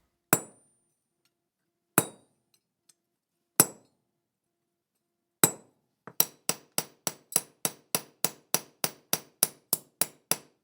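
A hammer taps a kogatana knife blade with clean metallic clinks, four slow, well-spaced strikes followed by a fast, even run of about fifteen lighter taps, close and clear with nothing else heard.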